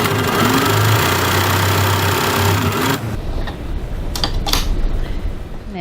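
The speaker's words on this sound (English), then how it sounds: "now I'm going to top stitch approximately 3 millimeters, 1/8 of an inch from the seam line" A sewing machine top stitches a crossbody bag seam about 3 mm from the seam line at a 3.5 stitch length. It hums steadily and loudly for a few seconds, then stops, followed by light handling and rustling.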